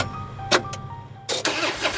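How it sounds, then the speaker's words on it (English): Car engine in trouble on a country road, a low rough engine drone with sputtering, uneven bursts and sharp noisy surges, loud and close. "their automobile began to experience mechanical difficulties."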